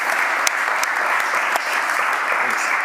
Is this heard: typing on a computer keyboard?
no